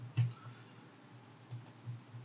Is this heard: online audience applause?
no